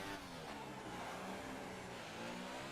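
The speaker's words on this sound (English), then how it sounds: "can Ryan beat the McLaren for pole position" In F1 2018, a Formula 1 race car engine screams at high revs in a continuous, buzzing drone, steady and fairly faint with no talk.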